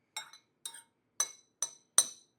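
A spoon clinks against a glass bowl five times in quick, uneven strikes while ground chicken and jasmine rice are stirred together, close and fairly quiet.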